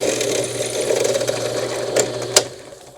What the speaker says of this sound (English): we're going to drill clear through both pieces right in the center